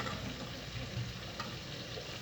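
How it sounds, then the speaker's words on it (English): Steak and fish fry in a pan for a rainy-weather Caribbean dinner, giving a steady, quiet sizzle with faint crackles and no voices. "So steak is frying here, fish is frying"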